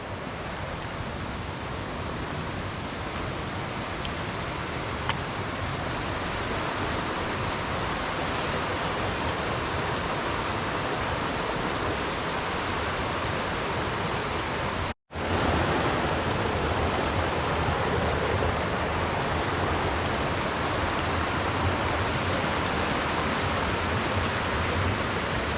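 Small waterfall beside a creek in the Smoky Mountains, a loud, steady broadband rush of falling water close by, continuous except for a momentary break, with no voices.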